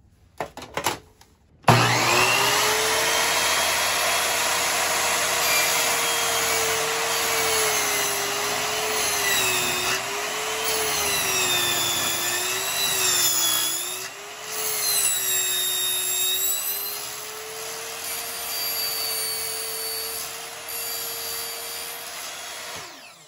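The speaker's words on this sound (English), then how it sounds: "let's see what happens when we cut these 2 thin pieces of sheet metal" A miter saw slices through two thin pieces of sheet metal, a loud continuous high-pitched whine and grinding screech that wavers in pitch as the blade bites, running steadily for about twenty seconds after a brief spin-up.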